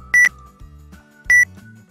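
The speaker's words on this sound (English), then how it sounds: "you can download also the beep here" A QR code scanner beep plays twice, each a short, loud, pure electronic tone, with quiet low tones between them.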